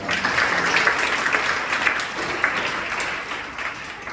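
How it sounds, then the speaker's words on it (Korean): An audience at a national youth debate festival applauds in thanks, a continuous, dense clapping that holds steady and fades slightly toward the end, with no speech over it. "오늘 일정을 지금까지 이끌어주신 하나님께 감사의 박수 드렸으면 좋겠습니다."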